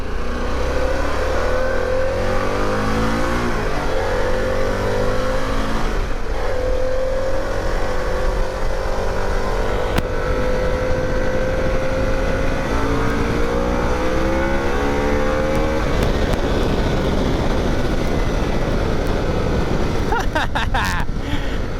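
A 2021 Harley-Davidson Pan America 1250 motorcycle accelerates hard, its engine note rising through the gears in steady sweeps, loud and close with wind rush throughout.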